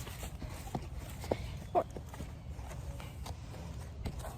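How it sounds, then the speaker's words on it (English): A barrel horse walks out of its stall, its hooves giving a few scattered clip-clop steps over a low steady background, with some faint voice sound. "I've got Chimmy, my trainer's other horse, her main barrel horse."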